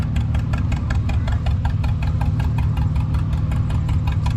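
A John Deere B tractor engine idles at a show, its slow, steady, evenly spaced putt-putt firing beats loud and close over a low rumble, no voices.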